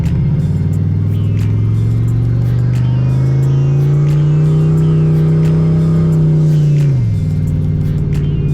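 A turbocharged SN95 Ford Mustang on Nitto 555R tyres drives along, its engine droning loud and close, revs rising slowly under steady load before dropping off near the end, with no talking.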